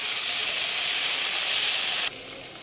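Spice paste of onion, garlic and cumin with salt frying in a pan, giving a steady loud broadband hiss that drops abruptly to a quieter level near the end.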